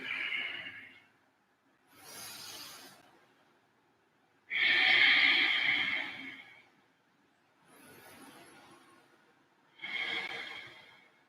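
Slow, deep breaths during a vinyasa yoga flow class, each long inhale or exhale rising and fading with pauses between, the loudest breath in the middle, close and unaccompanied by talk.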